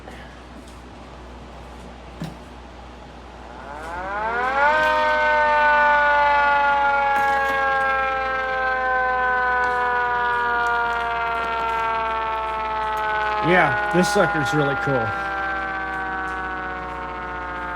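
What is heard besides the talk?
small wind-up siren with horns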